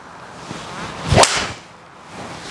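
A single sharp swish and somewhat muted crack of a TaylorMade 3-wood striking a golf ball, brief and close, with quiet surroundings before and after.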